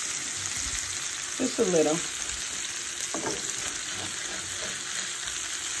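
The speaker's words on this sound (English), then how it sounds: "we're going to let this sizzle" Sausage fries in a pan seasoned with Goya adobo, giving a steady, close hiss of sizzling throughout, with brief speech and a few light stirring clatters over it.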